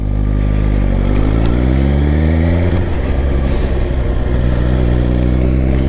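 Suzuki GSX-R1000R motorcycle ridden at low speed on the clutch: a loud, close engine hum with rising and falling revs and a clear shift in pitch partway through, with no talking.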